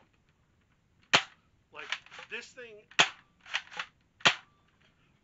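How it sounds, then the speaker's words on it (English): X-Shot Longshot toy blaster with upgrades firing three sharp, loud shots about a second apart, with clicking priming sounds and a brief spoken word between them. "this thing still primes pretty easily and still fires like a champ"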